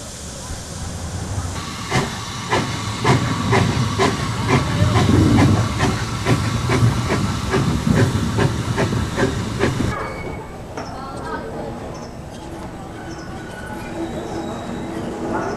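A London North Western Railway coal tank steam locomotive, built in Crewe in 1888, lets out loud, sustained steam hissing close by with rhythmic chuffing pulses, then eases to quieter hiss with faint birdsong.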